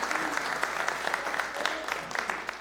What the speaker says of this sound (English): I've heard a lot of claps.